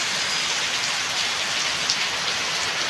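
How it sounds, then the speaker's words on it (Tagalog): Heavy rain pouring down in Mindoro, a dense, steady hiss of drops on surfaces with no breaks, loud and close throughout. "Oh, ulan ng ulan."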